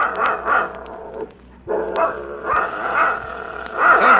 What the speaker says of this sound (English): Can't you shut that dog up?